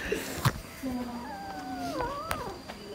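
A cat nearby gives a few drawn-out, wavering meows with rising and falling pitch, separated by short clicks and light handling noise.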